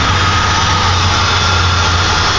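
A 2000 Ford Crown Victoria engine idling just off the highway, a steady low rumble with a constant hum, close and even throughout with no revving.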